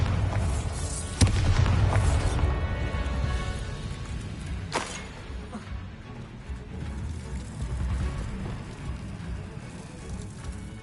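A Bombarda explosion spell cast in Hogwarts Legacy, inside underground tunnels: one sharp booming blast, then a second crack a few seconds later, over a steady rumbling, crackling background.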